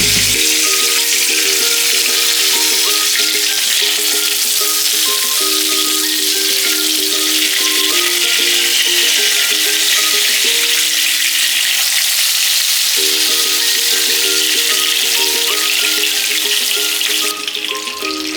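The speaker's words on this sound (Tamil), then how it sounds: "இப்போ ஒரு கப் எண்ணெய் சேர்த்துக்கோங்க இதில் நம்ம கத்திரிக்காய் எல்லாம் சேர்த்துக்கலாம்" Brinjal fries in a cup of hot oil in a pan for ennai kathirikai kulambu. The sizzle is loud, dense and continuous, with a steady melody playing behind it.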